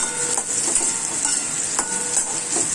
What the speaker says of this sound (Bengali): কিশমিশ দিলাম, এবারে কাজুটা দিলাম।